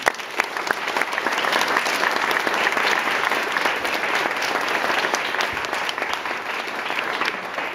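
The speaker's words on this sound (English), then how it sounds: "let's give him a round of applause" An audience at a Pride and Prejudice stage production applauds its director, loud, sustained clapping from a full room that holds a steady level for several seconds without speech.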